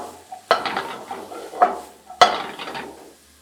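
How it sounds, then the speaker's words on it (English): Food sizzles in a pan while tongs stir and scrape it, giving three bursts of clattering metal and frying hiss up close, with no voices. "You can just stir it with your tongs."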